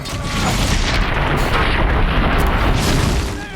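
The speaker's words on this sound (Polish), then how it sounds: "strzały." In Horizon Zero Dawn, a continuous barrage of loud, booming gunfire blends into a dense, rumbling wall of sound for several seconds without pause.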